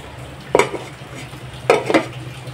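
A utensil stirs a Bengali katla fish head dish in a pan, giving two short scraping bursts with a soft sizzle beneath, close and moderately loud, with no talking.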